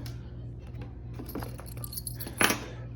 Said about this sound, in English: Got some Allen keys here.